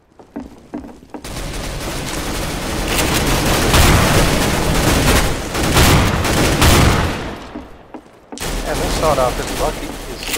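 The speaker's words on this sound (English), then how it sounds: "Grenade out!" Counter-Strike: Global Offensive match on the Seaside map: a loud, sustained stretch of rapid gunfire mixed with booming blasts, including a grenade explosion, that runs for several seconds and then cuts off abruptly before more shooting resumes.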